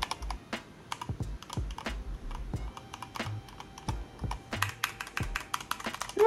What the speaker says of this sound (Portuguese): Olha só, são switches vermelhos, então ele é mais silencioso.